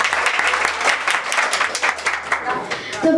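An audience at a school coaching-class annual function claps to welcome a young girl, with crisp, distinct hand claps forming a lively, irregular burst and voices audible alongside.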